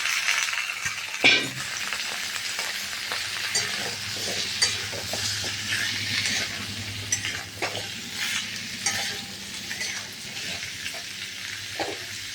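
Taro and potato pieces fry with onions in a pan, giving a steady close sizzle broken by scraping stirs and occasional metallic clinks of the spatula.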